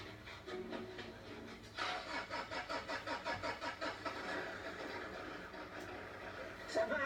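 An engine cranks with a rhythmic chugging starter for a couple of seconds, then catches and settles into a steady idle, nearby.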